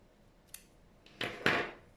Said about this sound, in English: And snip off your work.